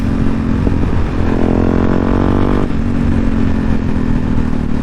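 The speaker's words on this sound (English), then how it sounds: "this isn't a proper supermoto, but it's got most things right" A supermoto-style motorcycle engine roars loud and close, rising in pitch as it revs, then dropping back to a steady rumble.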